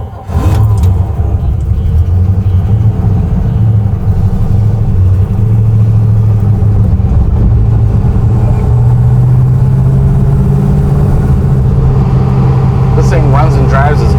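A 1962 Pontiac Catalina 421 Super Duty factory drag car drives with a loud, deep V8 rumble that holds steady and close throughout, rising slightly in pitch as it pulls along.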